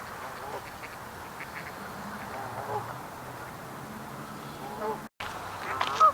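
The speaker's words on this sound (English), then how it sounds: "Got some geese here." Geese honk and quack in scattered calls at a pond in Boiling Springs, Pennsylvania, against a noisy outdoor background, with a brief dropout near the end and a louder honk just after.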